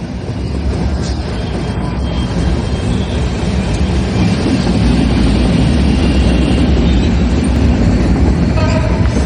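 Jahanabad Express train on the Dhaka–Khulna route rolling past Gandaria railway station, a steady, loud, continuous rumble and rattle of wheels on rails throughout.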